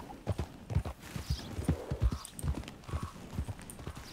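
Horse hooves clip-clopping in Red Dead Redemption 2, a steady close walking rhythm of distinct hoofbeats sounding alone.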